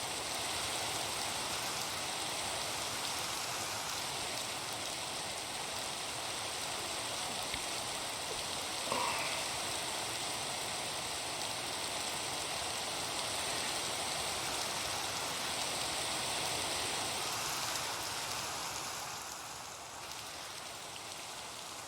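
Steady rainfall in Minecraft hisses evenly for the whole stretch, a dense wash of drops with no voices, easing slightly near the end.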